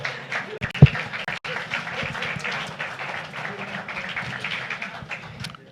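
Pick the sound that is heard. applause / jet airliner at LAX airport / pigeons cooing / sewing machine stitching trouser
applause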